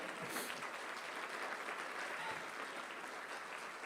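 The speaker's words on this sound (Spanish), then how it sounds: "¿Quién puede darle un fuerte aplauso al Señor?" Church congregation applauding steadily throughout, a dense even wash of clapping with no talk over it.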